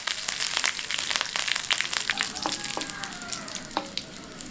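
Mustard seeds, dried red chillies and curry leaves sizzling in hot oil for an okra masala, with a dense crackling fry and scattered pops, close and steady, fading slightly toward the end.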